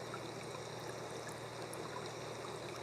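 Gentle flowing water runs in a steady, soft, continuous wash with no voices, faint and even throughout.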